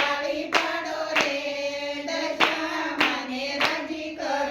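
Two-handed clapping keeping time in a devotional song to Dashama, sharp claps recurring roughly every half to one second over sustained music and singing.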